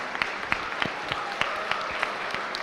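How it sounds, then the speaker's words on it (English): Audience applause at a flagship event after a questioning round, a short burst of scattered clapping with distinct individual claps over a light crowd wash. "can you please give everyone a huge round of applause?"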